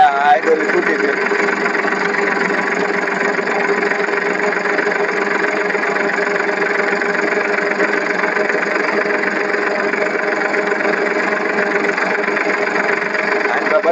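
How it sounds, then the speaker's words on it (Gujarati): A farm tractor's engine runs loud and steady while the tractor turns in a field, a constant close drone throughout with no clear change in pitch. "આ રીતનો અમે ટ્રેક્ટર આપણે વાળવાના છીએ"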